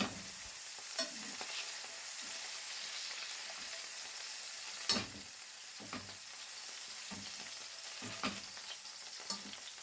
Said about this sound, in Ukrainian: І так ми обжарюємо всього кролика.